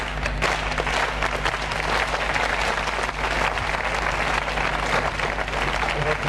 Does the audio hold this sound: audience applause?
yes